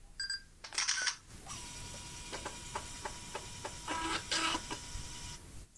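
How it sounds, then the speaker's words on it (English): A 1998 Sony Mavica digital camera that stores images on floppy disk takes a picture, with close mechanical clicks and a shutter-like snap, followed by soft ticking and whirring as it works. "So that's the sound of taking a picture."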